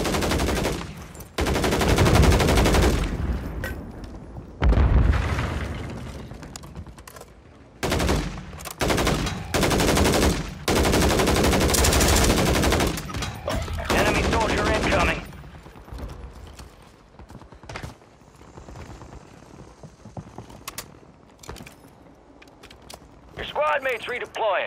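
Call of Duty battle gunfire: bursts of automatic rifle and machine-gun fire in heavy clusters during the first fifteen seconds, then sparser distant shots, with radio-style voices mixed in.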